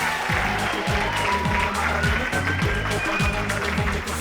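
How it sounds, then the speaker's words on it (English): A crowd claps and applauds steadily, a dense sustained wash of hand claps throughout. "Can we give these guys a massive round of applause?"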